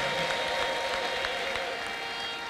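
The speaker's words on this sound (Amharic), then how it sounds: "ለጌታ እልልታና ጭብጨባ ስጡ።" Applause and ululation from a church congregation welcoming a newly born-again believer, a steady dense wash of clapping filling the room for the whole stretch without pause.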